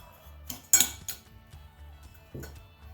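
Sugar and fresh yeast are stirred in a bowl, with a few sharp clinks of a spoon against the dish among quiet scraping.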